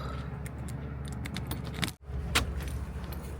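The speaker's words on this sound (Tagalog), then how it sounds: "Pwede naman, may susi naman tayo." A bunch of keys jingles in scattered metallic clicks and rattles while being used to unlock a gate door outdoors, with a steady low background hum and a brief dropout midway.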